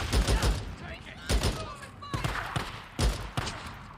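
Bursts of gunfire in the zombie-survival video game Days Gone: several loud, sharp volleys in quick clusters, with someone talking over the shooting.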